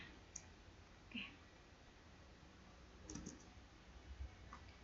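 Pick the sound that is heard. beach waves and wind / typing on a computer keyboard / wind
typing on a computer keyboard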